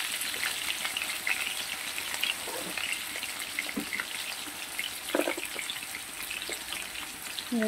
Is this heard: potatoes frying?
yes